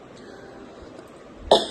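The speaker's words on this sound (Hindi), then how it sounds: "मेरी खांसी नहीं ठीक हो रही है बिल्कुल भी" A woman with a lingering cough at home coughs once, briefly and close, at the very end over a low steady background hum; no speech.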